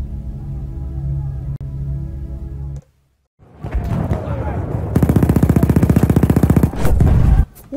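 Video game gunfire in a railyard battle, loud rapid automatic bursts with a sustained rattling stretch after a brief silence, mixed with other game noise and talk.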